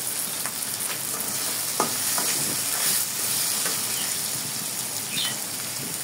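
Tomatoes fry in a pan of hot oil with a continuous bright sizzle and hiss. A few soft stirring scrapes and pops punctuate it and no one speaks.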